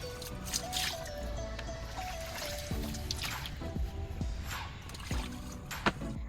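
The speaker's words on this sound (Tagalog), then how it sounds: "Pagkatapos ng ilang minuto ay kukunin na natin ang mga damit sa madumi na tubig." Wet clothes lifted out of a basin of dirty water during hand laundry, with repeated squishing, splashing drips and trickles falling back into the water, close and fairly quiet.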